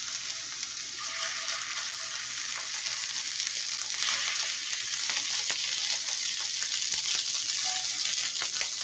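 A deer loin steak sizzles loudly and steadily in a pan of hot oil and butter, a dense continuous crackle and spatter from start to finish with no talking.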